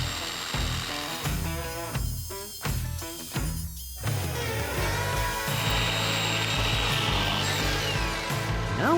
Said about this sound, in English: Then we cut it with a jigsaw.